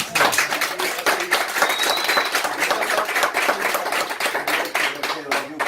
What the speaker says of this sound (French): Tony, mesdames et messieurs, sous vos applaudissements